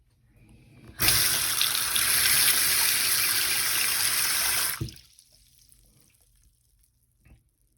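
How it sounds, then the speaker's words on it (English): Water rushes loudly down a sink drain unclogged with vinegar, a steady gushing for about four seconds that cuts off abruptly, followed by faint gurgles and quiet. "It drains much better than before,"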